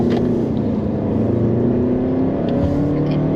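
A 2022 Toyota Highlander Hybrid Bronze Edition accelerating from inside the cabin, a loud, steady engine drone with a slowly rising tone and no talk.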